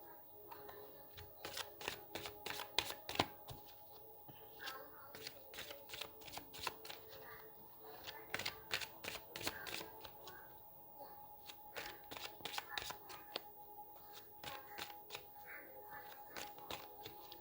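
Oracle cards being shuffled and drawn by hand, soft repeated riffling flutters and quick card snaps close by, faint and quiet, with occasional low talk in the background.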